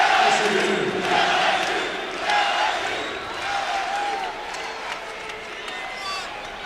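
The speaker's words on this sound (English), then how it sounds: "this crowd, or at least the purple-clad crowd, is appreciative of the effort" Purple-clad home crowd at an LSU men's college basketball game against UL Lafayette, loud sustained cheering and applause filling the arena with swelling roars, heard alone without talk.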